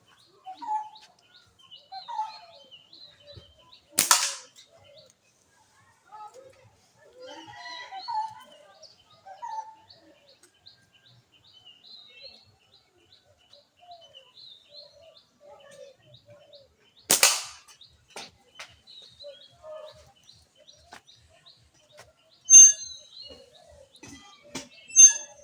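A 9 cm slingshot sends shots into a target outdoors. Two or three sharp, isolated cracks are spaced far apart over faint bird chirps and light background rustle.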